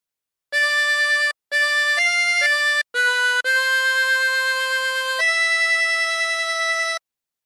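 Chromatic harmonica plays a slow Silent Night phrase as clean, sustained reedy notes: several short separated notes, then longer held tones stepping down, all alone and close.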